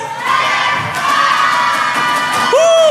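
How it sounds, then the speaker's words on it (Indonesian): A crowd of university students at an Indonesian campus event shouts together in one loud, brief burst of cheering, close and energetic. "Oke Denny, teriak dong University Class ke teman-temannya."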